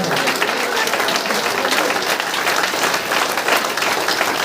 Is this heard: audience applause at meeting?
yes